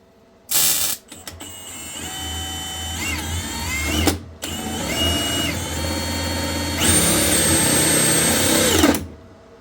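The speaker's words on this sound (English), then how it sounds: "It drills through steel faster than it drills through this plastic." A power drill bores through a plastic box in a garage working on a Mitsubishi Magna street stock race car, grinding in long, steady, whirring bursts with a brief stop between, close and loud, no talk.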